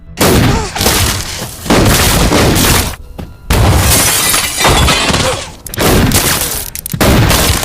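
Loud bursts of rapid gunfire and crashing impacts in repeated volleys with short gaps, chaotic and close.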